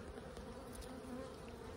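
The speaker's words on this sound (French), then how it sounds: "il y a même de la guêpe poliste, ça tourne un peu dans tous les sens" Paper wasps buzzing around in every direction outdoors: a faint, continuous insect drone over a low background hum, no voices.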